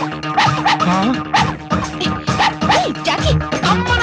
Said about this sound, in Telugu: కుక్క కరవదయ్యా